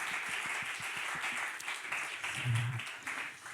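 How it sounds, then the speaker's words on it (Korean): A church youth congregation claps together in a sanctuary, a steady patter of fairly soft applause that lasts a few seconds with a faint voice underneath. "우리 박수로 격려하겠습니다."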